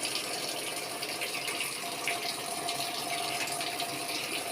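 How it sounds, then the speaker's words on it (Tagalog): Water gushes steadily into a Samsung wobble-type automatic washing machine that had not been washing because no water was coming in. The rush is a continuous close hiss with no talking. "Yan, mapasok ni tubig. So, magwawash yan kapag naabot niya yung water level."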